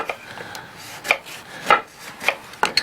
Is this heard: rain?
no